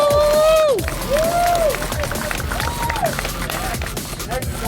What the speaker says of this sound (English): Round of applause for Larry.